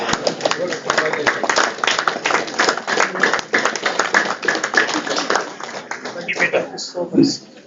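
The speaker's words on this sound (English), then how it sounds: "Please give a big round of applause for Mr. Rajsekhar Reddy, Assistant Professor" Audience applause at an Engineer's Day awards ceremony, many hands clapping in a steady, fairly loud burst that thins out near the end, where a voice briefly speaks.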